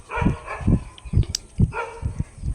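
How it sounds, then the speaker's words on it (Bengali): A dog at a neighbouring house barks in a steady series of short, repeated woofs, heard at moderate distance with faint background hum and no talk. "আর এদিকে দেখো আমাদের পাশের বাড়িতে কুকুর ডাকছে"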